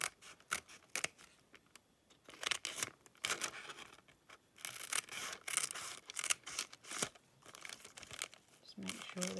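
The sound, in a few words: cutting a starter blackbird pattern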